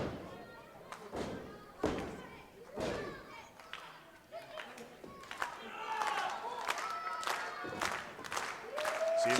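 Small indoor crowd at an independent wrestling show in Butler, New Jersey, cheering and clapping in scattered bursts, mixed with heavy thuds from the ring and commentary voices over the top.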